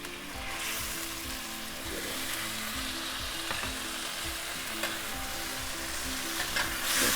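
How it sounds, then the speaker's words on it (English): Pork belly stir-frying in a wok after searing, a steady loud sizzle with repeated scraping stirs throughout, no voices. "Stir fry quickly."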